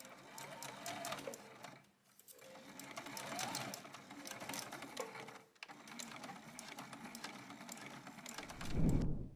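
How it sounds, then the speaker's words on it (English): A sewing machine stitches a fabric purse strap loop in several continuous runs, its rapid clatter and motor whir broken by two brief stops, close and steady, ending with a soft handling thump. "whenever I sew over the loop, I'm going to reinforce it with 3 rows of stitches so it's super strong"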